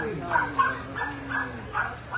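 Chow Chow at an indoor dog show making a few short yips and whimpering barks, fairly close, heard under an announcer talking continuously through the whole stretch.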